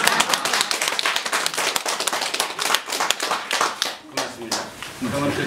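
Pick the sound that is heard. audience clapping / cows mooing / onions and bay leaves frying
audience clapping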